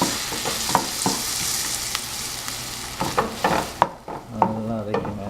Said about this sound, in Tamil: வெங்காயம் நல்லா காரமலைஸ் ஆகணும். காரமலைஸ் வதக்கிங்க வெங்காயத்தை.